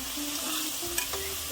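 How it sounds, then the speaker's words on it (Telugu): Onion and green chilli frying in a pan toward golden brown, a steady close sizzle with the soft scrape of stirring and a couple of brief clinks, with no one talking. "సో ఆనియన్ మిర్చి వేసి గోల్డెన్ బ్రౌన్ కలర్లోకి వచ్చేంత వరకు వేయించుకోవాలి"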